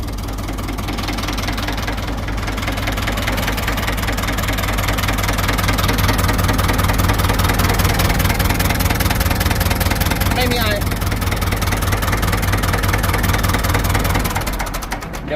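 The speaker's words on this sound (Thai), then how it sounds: "เบิ้ลให้หน่อยดู ควัน เครื่องไม่มีไอเลยนะ" Ford 5000 tractor, a used 1977 machine, with its diesel engine running and revved, a loud, steady, rough chugging that swells to a higher pitch midway and holds before easing, with people talking nearby.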